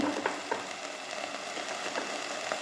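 Biryani masala frying in hot oil for prawn biryani, a quiet continuous sizzle with light crackles and faint stirring scrapes, no talking.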